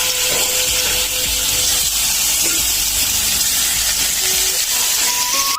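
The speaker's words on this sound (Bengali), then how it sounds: "এখন আমি মাছটা ভাইজা নিব" Tilapia fish frying in hot oil in a frying pan gives a continuous, even hiss and sizzle with occasional faint pops, steady from start to finish.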